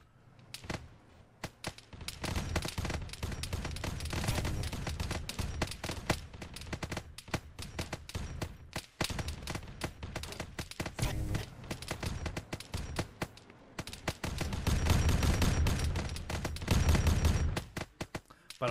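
Gunfire in ARMA 3 with a Warhammer 40k mod, Guardsmen weapons firing at Space Marines: dense bursts of rapid automatic shots in long rattling volleys, broken by brief pauses.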